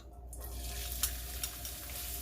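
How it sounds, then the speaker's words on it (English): Minced onion sizzles and fries steadily in a hot pan, a close continuous crackle with a few small stirring bumps and no talk. "cook the onion until it is translucent"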